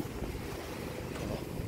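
A bangka outrigger boat moves over open water near an island camping site, giving a steady rush of wind and waves, with the wind buffeting the microphone. The level stays faint and even, with no talking.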